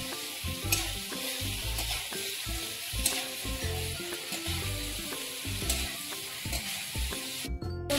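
Fresh village cauliflower fries in a pan with a continuous close sizzle, and a spatula scrapes and stirs it gently in slow, repeated strokes. No voices are heard.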